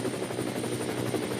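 A camera helicopter flies over the Nürburgring race track during an endurance race, making a steady loud rotor thrum with a fast, even chopping pulse and no break.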